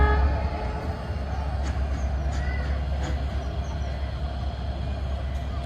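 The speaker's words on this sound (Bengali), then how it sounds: "ইঞ্জিনটা চলে যাচ্ছে।" A diesel passenger locomotive at Jashore Railway Station rumbles with a deep, steady engine drone at moderate distance, its low roar holding constant as it pulls away after being uncoupled from the train.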